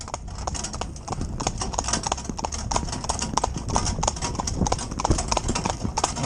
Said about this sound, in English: And go to the next gear, which is a trot.